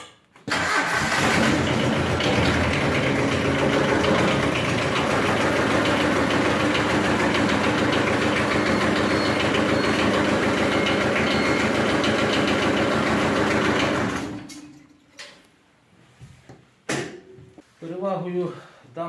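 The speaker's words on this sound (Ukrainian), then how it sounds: "Потримаємо її трошки і спробуємо запустити двигун." The diesel engine of a three-wheeled trike cranks and catches after glow-plug preheating, then runs loud and steady for about fourteen seconds before shutting off, leaving quieter clanks and a few spoken words.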